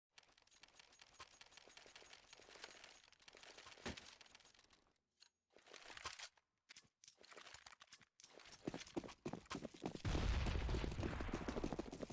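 Grenades bursting during a Counter-Strike esports match on Overpass, a quiet muffled stretch of crackling blasts and scattered gunfire, with a heavier rumbling burst toward the end.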